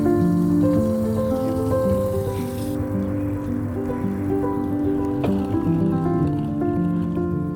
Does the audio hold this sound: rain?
yes